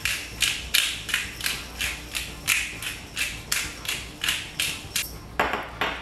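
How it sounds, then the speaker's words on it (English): A pepper mill cracks fresh pepper for an oxtail dish in about a dozen sharp, evenly spaced grinding clicks, close and clear with no talk. "First thing I'm going to add in is some freshly cracked pepper."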